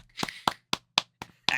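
Six separate, evenly spaced hand claps, sharp and close, rather than a crowd's applause.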